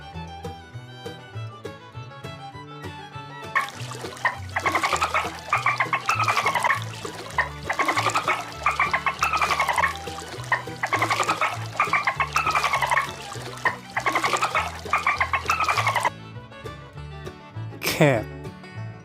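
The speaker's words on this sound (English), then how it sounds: "Dolphin." Rapid dolphin clicks and whistling squeals carry on in a steady burst over a background music bed, ending with a short sharp splash-like sweep.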